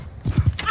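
Horse hooves clip-clop in a few quick thuds during a battle in the video game Mount & Blade II Bannerlord, mixed with game noise and a brief whinny-like sound, no clear talking.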